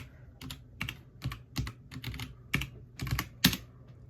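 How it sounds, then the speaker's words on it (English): Someone types an IP address on a computer keyboard, giving a close, quiet run of clicking keystrokes in short uneven bursts with a firmer tap near the end, with no talk. "Come over here, type in your IP"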